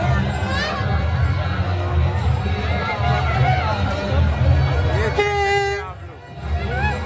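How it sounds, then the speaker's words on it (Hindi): A large festival crowd at the Allapur Navratri mela pandal in Prayagraj, with a dense steady babble of many voices close around, a nearby voice speaking over it, and a brief horn toot near the end. "भीड़ बहुत ज़्यादा है भाई, देख रहे हैं काफ़ी ज़्यादा भीड़ है यहाँ पे"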